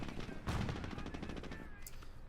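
A 37mm anti-tank gun fires in the Company of Heroes war game, a heavy boom near the start followed by a dense spread of overlapping battlefield gunfire and rattling shots, moderately loud with a brief high tone near the end.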